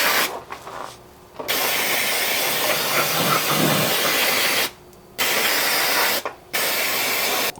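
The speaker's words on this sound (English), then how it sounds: "spray brake cleaner all over everything" Brake cleaner sprayed over a car engine in long hissing aerosol bursts, close and loud, with a few short pauses between sprays.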